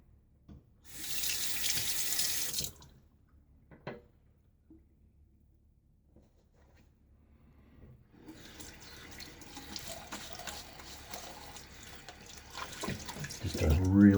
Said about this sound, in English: Just a really quick splash of water to kind of rehydrate the face, rinse just a little lather away